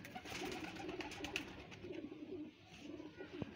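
An antique pigeon coos softly and repeatedly in a quiet setting, low murmuring calls close by with faint background noise.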